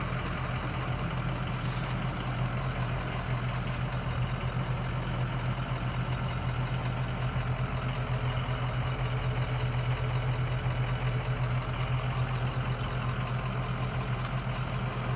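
A Ford E350 Econoline cargo van's 6.0 Power Stroke diesel idles steadily after a cold start, a constant close rumble with a faint knocking clatter and no voices.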